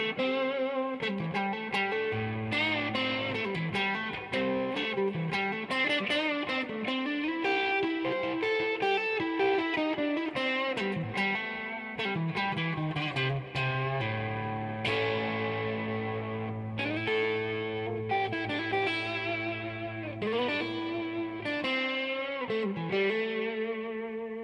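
Electric guitar through a Lovepedal Joker boost, Champ, Deluxe Blackface and HSR-3 reverb, with a boosted, slightly gritty tone and reverb, playing sustained chords and melodic lines with a low held note underneath, loud and continuous.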